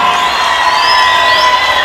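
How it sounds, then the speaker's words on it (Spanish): A crowd at a live music concert in Colombia claps and cheers loudly, a thick roar of applause mixed with shouts, whoops and sustained whistle-like tones that rise and waver over the noise. "para quien yo pido un fuerte aplauso"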